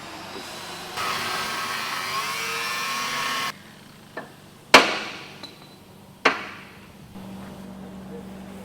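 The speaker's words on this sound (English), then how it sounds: "we've got another fella going to take the cutoff wheel. We're going to cut all these hooks loose." A cutoff wheel cuts hooks and rivets off metal during a heavy wrecker truck build: a sustained harsh grinding hiss for a few seconds, then sharp metallic knocks and clanks ringing out in a workshop.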